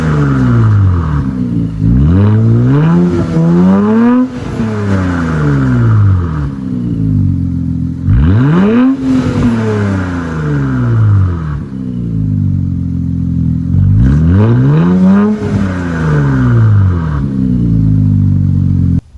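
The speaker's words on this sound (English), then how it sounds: "we're gonna go ahead and get some clips of the revs right now" An Infiniti Q50 3.0t with a Tomei Expreme Ti titanium exhaust is revved three times from idle, each rev swelling into a loud, close roar and falling back to a rumbling idle, with clattering between revs.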